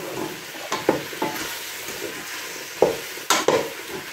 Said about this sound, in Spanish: Vamos a freír las verduras a fuego medio, más o menos 5 hasta 8 minutos